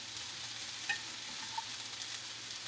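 Turkey and green beans for a spicy Asian stir fry sizzle steadily in a hot pan, a constant, fairly soft frying hiss with faint stirring scrapes and no voices.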